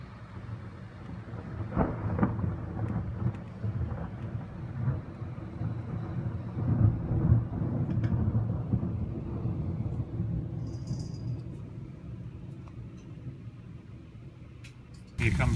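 A thunderstorm rolls through with low, drawn-out thunder rumbling and a steady hiss of rain, fairly distant and soft, while voices talk over it.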